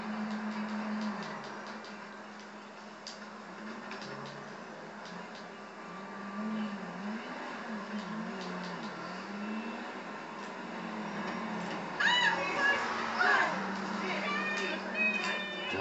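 Car drifting in GTA 5, a steady wavering in-game engine drone with squealing tire tones rising near the end, with a voice talking over it throughout.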